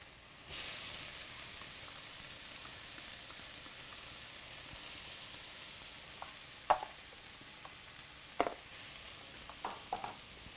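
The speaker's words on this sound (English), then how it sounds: "begin by sauteing a little bit of garlic" Garlic, peppers and corn sauté in a pan with a steady, close sizzling hiss, broken near the end by a few sharp clinks and stirring scrapes.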